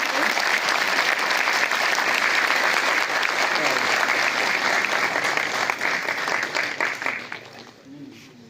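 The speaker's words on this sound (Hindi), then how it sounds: "तालियों की गड़गड़ाहट।" A crowd at a political party's job fair event gives loud, sustained applause, a thick roar of clapping that holds steady before fading out in the last second.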